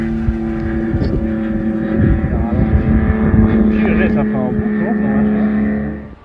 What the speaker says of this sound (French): Passage moteur allumé.